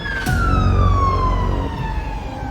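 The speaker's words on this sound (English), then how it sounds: "I called 911, and ambulance came." A single wailing ambulance siren tone sweeps slowly downward, loud and close, over a low engine rumble.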